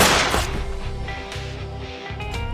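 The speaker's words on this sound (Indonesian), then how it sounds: "Hanji yang sudah membidiknya dari kejauhan langsung menembak dan mengenai kepala Jung headshot." A gunshot in a film scene: a sharp, loud blast at the start fades into a rumbling echo over a dramatic soundtrack, with no talking.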